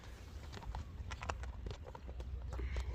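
A horse walks with steady clip-clopping hooves at moderate distance, the irregular hoof strikes continuing over a low background rumble.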